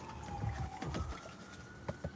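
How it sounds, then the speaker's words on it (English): A distant siren wails faintly outdoors during gold prospecting, its thin tone gliding downward over low rumbling outdoor noise and a few scraping knocks. "I hear a siren going."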